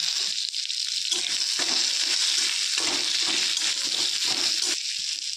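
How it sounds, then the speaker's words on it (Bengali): Cumin seeds, two bay leaves, chopped ginger and tomato fry in hot oil in a pan, producing a loud, dense, steady sizzle with brief pauses and stirring noises near the mic. "মশলাটা বেশি ভাজবো না, আদার কাঁচা গন্ধটা চলে যাওয়া পর্যন্ত আমি মশলাটা ভাজতে থাকবো"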